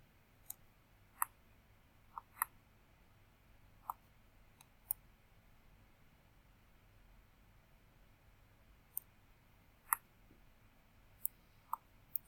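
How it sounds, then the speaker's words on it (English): A computer mouse clicks sharply a dozen or so times at irregular intervals, close and crisp over a quiet room background, with no one speaking. "Sorry, that's my mouse there."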